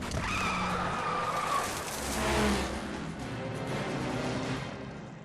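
Car skidding hard in The Saboteur after its tire is shot during a race, a loud sustained screech of rubber with engine roar, swelling mid-way and trailing off.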